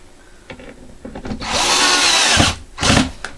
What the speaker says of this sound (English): You want to screw these on really well.